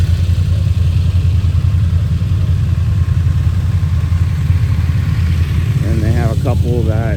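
BMW motorcycles at a European motorbike event in Columbus, Ohio: a loud, continuous low engine rumble and idle fills the whole clip, with a voice speaking briefly near the end over the engines.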